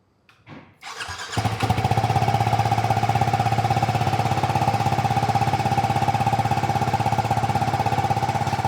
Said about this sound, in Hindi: तो चलिए भाई सुनते हैं इसके एग्जॉस्ट साउंड को।